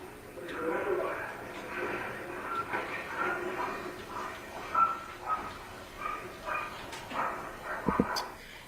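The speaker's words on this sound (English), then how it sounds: "Did you hear something in the background when you arrived? I mean, a dog barking." A dog barks somewhere in the background of a recording played back in a courtroom, faint and intermittent beneath steady speech.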